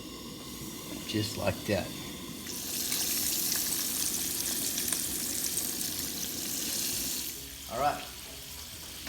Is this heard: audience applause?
no